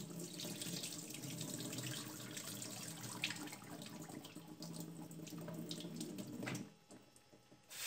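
Lukewarm water runs from a kitchen tap into a sink while soaking chicken gizzards are changed, a steady rushing stream that cuts off near the end.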